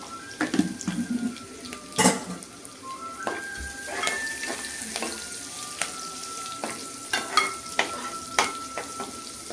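Tempering spices, including dried red chillies, sizzle and crackle in hot oil while a metal spoon scrapes and clinks against the pan in irregular bursts.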